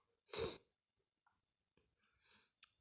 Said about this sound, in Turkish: yine hapşıracağım